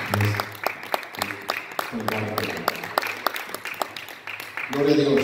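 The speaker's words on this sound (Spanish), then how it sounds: "Denle un aplauso a Cristo." Church congregation applauding during a bilingual Spanish-English service: loud, dense clapping carried on for several seconds, with voices mixed in over it and the sound swelling again toward the end.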